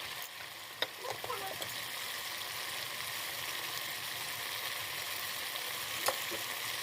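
Turmeric and ground spices stir-fried in a pan for crab curry, a loud steady sizzle with a few spoon taps and scrapes against the pan, no talking.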